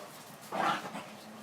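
A single short dog bark or yelp sounds at moderate distance outdoors over a steady background hiss, faint and brief, with no other clear activity around it.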